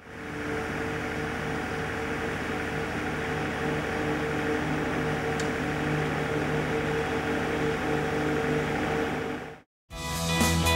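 An electric lawn mower runs in a garden with a steady, even whir and hum, continuous and fairly close, then cuts out abruptly near the end.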